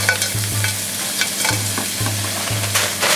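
Ground meat for salt yakisoba fries loudly on a hot griddle, a constant close sizzle broken by clacks and scrapes from a spatula and a low intermittent hum in the background, with no talking.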